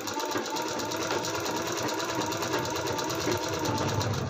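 A sewing machine runs continuously up close while stitching piping onto a full-sleeve blouse, a steady rapid mechanical whir and chatter with no pauses or talk.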